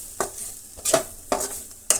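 Masala and chopped onion frying in a pan for an egg omelette, a soft sizzle punctuated by four distinct scraping stirs spaced roughly half a second apart, close and fairly quiet.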